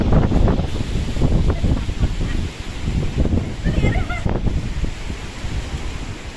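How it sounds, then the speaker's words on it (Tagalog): Very strong typhoon wind at Burias, Masbate under signal no. 3 roars and buffets the microphone continuously and loudly, with gusting surges throughout and a voice speaking over it. "sobrang lakas talaga ng hangin mga Martman natin"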